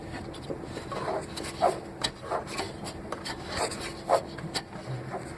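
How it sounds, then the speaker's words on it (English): Fingers loosening a wing nut on a Monoprice 3D printer, soft scraping and rubbing with scattered small metallic clicks and squeaks, close and fairly quiet, no voice. "So we need to loosen the wing nut."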